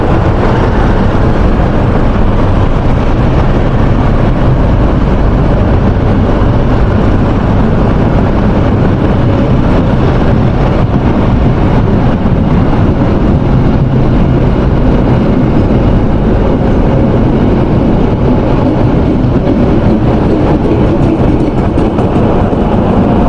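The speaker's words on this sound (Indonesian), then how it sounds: "Jalur 3 kereta api Pandalungan telah diberangkatkan dari stasiun Rambi Puji" Pandalungan passenger train pulling out of Rambipuji station, a loud, close, steady rumble of rolling wagons that holds constant throughout with no voices.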